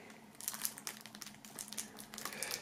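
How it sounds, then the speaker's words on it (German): Plastic shrink wrap is peeled off a music album and EP, with close, irregular crinkling and crackling bursts over a quiet background. "Also das Album und die EP werden wir mal hier aus der Folie befreien."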